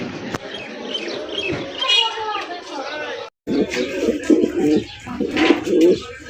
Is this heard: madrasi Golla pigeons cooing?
yes